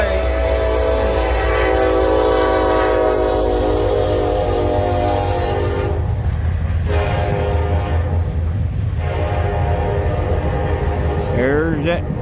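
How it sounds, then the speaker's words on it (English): Long garbage-hauling freight train rumbling past close by, its horn blaring loud and sustained over the heavy rolling noise for several seconds before cutting off, with a short spoken remark near the end. "There's that trash train again."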